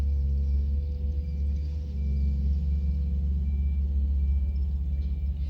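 A skid steer loader works in a scrap yard with a continuous, close, heavy diesel drone and a deep rumble. A thin steady whine sits above the engine, with no talking.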